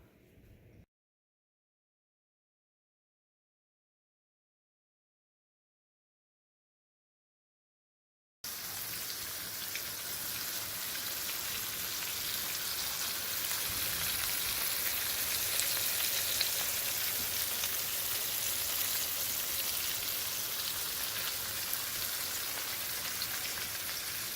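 Stuffed, floured chicken sizzles steadily in a pan, a dense continuous frying crackle that starts after a brief silent gap and holds at a moderate level with no talk.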